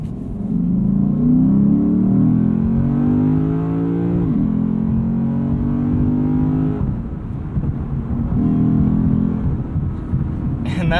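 A throaty 2020 Lexus RC F engine with active exhaust revs repeatedly, pitch climbing and dropping in several surges, loud and near, with a deep rumbling exhaust tone.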